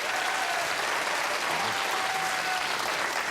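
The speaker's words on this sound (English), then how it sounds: "Sad applause." A late-night talk show studio audience claps in a steady, dense wash of applause that holds evenly throughout without swelling or fading.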